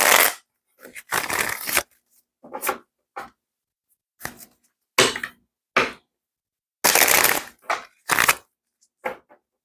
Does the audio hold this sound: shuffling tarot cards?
yes